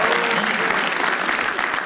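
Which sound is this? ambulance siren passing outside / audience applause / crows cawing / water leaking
audience applause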